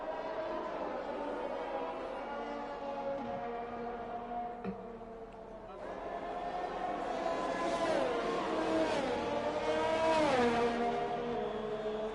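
Formula 1 race cars from the game F1 2021 at the Spain round drone and whine steadily throughout, engine pitch rising and sweeping as they accelerate, continuous and fairly loud with no voice.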